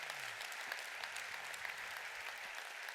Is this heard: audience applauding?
yes